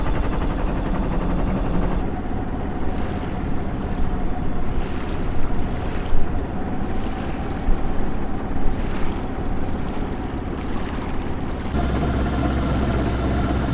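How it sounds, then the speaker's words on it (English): A sailboat slips its mooring ball at Annapolis on Chesapeake Bay in freezing weather, with steady wind rushing across the microphone and waves washing against the hull throughout, loud and continuous with no voices. "We're letting loose from the mooring ball and we're gonna go through the bridge back at the Chesapeake."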